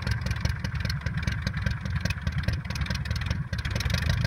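A Vari EZ airplane's engine runs after being hand-propped, a loud close rhythmic clatter with a steady beat throughout.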